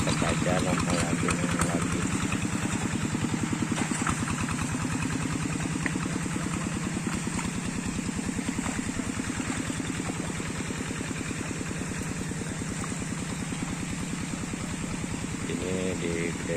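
A tractor engine runs steadily at close range, a continuous rumbling drone with a throbbing idle-like pulse, with speech over it.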